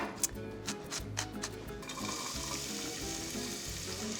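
Chopped onion fries in a couple of tablespoons of vegetable oil in a pan over medium heat, giving a soft, continuous crackling sizzle at a quiet, even level.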